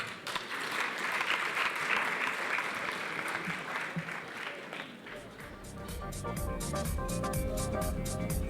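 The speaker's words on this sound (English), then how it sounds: "can we please give Mr. Kotza and Mr. Nganana a round of applause?" Applause at the 2019 CCMA Indaba gala dinner, a dense crowd of clapping that swells and holds steady, then gives way to music with no talk over it.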